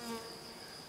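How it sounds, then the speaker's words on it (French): Honeybees buzz around a hive, a colony that came from a vacuum. The buzzing hum is steady and fairly faint, with no voices. "les abeilles sont là"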